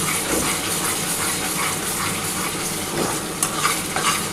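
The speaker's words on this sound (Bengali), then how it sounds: "এবার ভালো করে এটা কষাতে হবে।" Fish curry masala seasoned with Kashmiri chili powder sautés in a pan with steady, loud sizzling and frying, a spoon scraping and stirring through it continuously with no voices.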